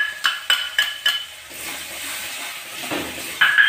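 Cashew, raisin and melon seed paste being stirred into a frying pan for shahi paneer, with a handful of sharp spoon clanks against the pan over a soft frying sizzle and scraping.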